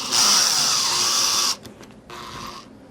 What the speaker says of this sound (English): the best option of the lot is to drill a longer hole in there and put a longer screw in there